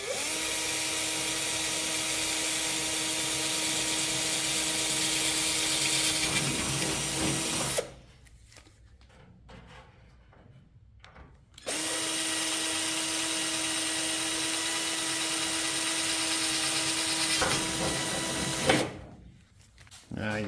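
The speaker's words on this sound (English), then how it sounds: "now you can drill through with the little drill bit for the rivets" A small drill bit bores rivet holes through sheet metal on a fuel tank cover for a Hummel Ultracruiser aircraft build, running as two long, steady whining passes separated by a short quiet pause.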